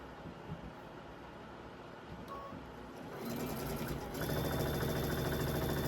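A quilting sewing machine stitches small half square triangle pieces, quiet at first with faint handling noise, then whirring into a steady fast mechanical run that grows louder partway through.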